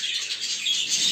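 Budgerigars squabbling in an aviary, a continuous close mass of high chattering chirps and squawks with faint wing flutter, steady and busy throughout.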